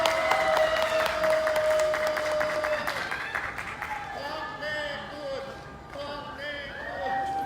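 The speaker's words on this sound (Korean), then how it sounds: "큰 박수 부탁드립니다" An audience claps at a 2019 rally against disability discrimination in Korea, giving a dense burst of applause that fades over several seconds while voices carry on over and after it.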